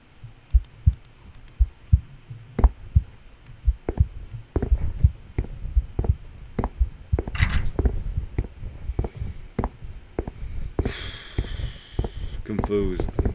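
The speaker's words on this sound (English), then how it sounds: "And I can hear a heartbeat." A video game heartbeat thumps in slow, regular low pulses that grow denser and louder, mixed with clicks and faint rustles, while a voice briefly speaks near the end.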